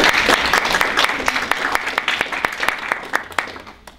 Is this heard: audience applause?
yes